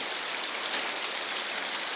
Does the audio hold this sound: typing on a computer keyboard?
no